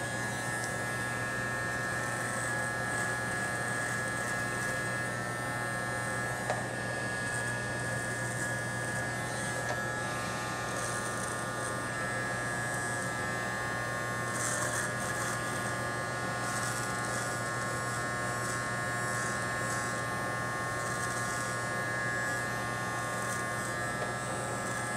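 Electric clippers buzz continuously while shaving a mustache, a steady close motor hum with a high whine that lasts throughout at moderate level, with slight variations as the blades move over the hair.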